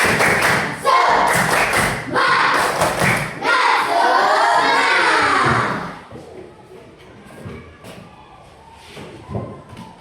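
Children in an Indonesian classroom perform a rhythmic 'tepuk semangat' spirit clap, loud group claps and thumps with shouted chanting for about six seconds, then quieter chatter and scattered taps follow.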